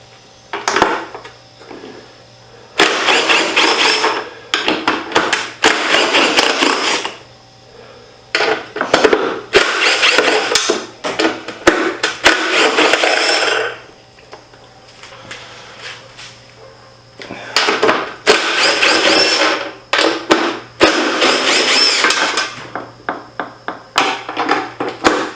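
A wrench working out 13 mm bolts on a Jeep Gladiator Rubicon during a fog light install, heard as repeated bursts of loud metallic ratcheting and clicking, separated by short pauses, up close.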